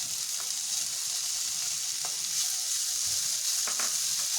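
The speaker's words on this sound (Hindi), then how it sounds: "अब ये कोकोनट का पेस्ट जो है उसको हम गोल्डन ब्राउन होने तक रोस्ट करेंगे" Coconut paste roasts in a kadai over the flame until golden brown, giving a steady bright sizzle with a few soft scraping stirs, close and continuous.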